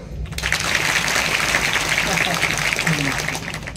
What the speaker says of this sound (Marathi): एकदा फक्त महिला मंडळ टाळी वाजवा.